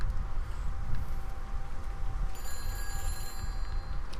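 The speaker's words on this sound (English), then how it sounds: "I hear a phone. My phone ringing." A telephone bell rings inside the game Everybody's Gone to the Rapture, in thin repeated tones starting midway through. The ringing sits fairly faint over a loud, steady ambient rumble, and no one speaks.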